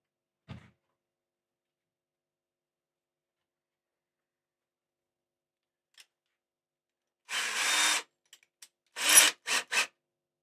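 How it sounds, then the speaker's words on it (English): A luthier slowly drilling through taped wood on a custom guitar, heard as a faint knock, then a rough grinding burst of almost a second followed by several short rasping pulses, all close and without talk. "I'm going to go nice and slow. I'm going to drill through there."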